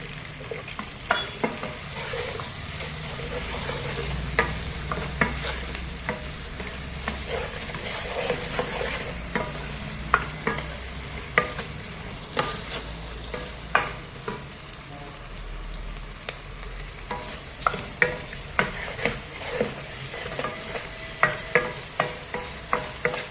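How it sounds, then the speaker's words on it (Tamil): Chettinad crab curry masala sautés in a pan, a constant close sizzle punctuated by frequent sharp clacks and scrapes of a ladle stirring against the pan, steady throughout with no talking. "நல்லா வதக்கட்டும், தொக்கு பதத்துக்கு வரட்டும்."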